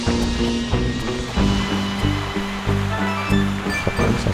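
Steady rushing water in a video game, continuous and fairly loud, with a repeating musical score running underneath and no talk.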